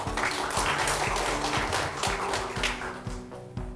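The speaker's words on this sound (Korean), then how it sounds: "큰 박수로 맞이해주십시오" Applause rises from the audience at a regional economy forum in Danyang as a council chairman is welcomed, steady clapping with tonal hum and faint tapping underneath.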